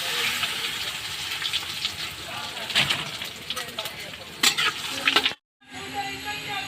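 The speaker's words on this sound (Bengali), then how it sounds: "তেল গরম হয়ে গেছে শুকনো লঙ্কা তেজপাতা আর জিরে দিয়ে দিচ্ছি" Dry red chillies, bay leaves and cumin crackle and sizzle in hot oil in a home kitchen, a steady frying hiss with sharp spitting pops and stirring, cut off by a brief silence near the end.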